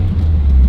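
An Acura Integra with a VTEC engine pulls hard while driving, its deep, steady engine rumble and road noise filling a brief, loud, continuous stretch with no voices.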